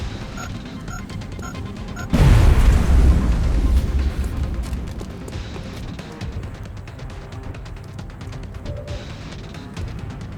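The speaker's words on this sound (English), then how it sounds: "Frag out." A frag grenade blast in the strategy game XCOM Long War bursts out as a loud, heavy boom with a crashing impact, then a rumbling decay that slowly fades over several seconds.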